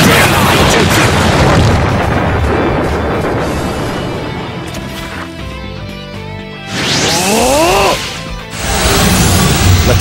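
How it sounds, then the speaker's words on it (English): Fire Style Dragon Flame Jutsu attack effect from Naruto Storm 4, a loud roaring burst of flame and booming impacts filling the whole stretch, with a sweeping whoosh and a second surge near the end. "Fire style! Dragon Flame Jutsu!"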